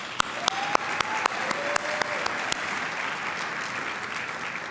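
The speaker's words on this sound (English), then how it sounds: "Give yourself a round of applause." A convention audience applauds at the opening plenary of the 2018 NAMI National Convention, dense clapping across a large hall with a few sharp, louder claps standing out up close early on, then the applause thins.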